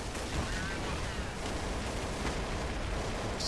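Grenade explosions in the Counter-Strike: Source video game, a dense, loud, continuous wash of blasts and gunfire-like bursts with no clear gaps between them.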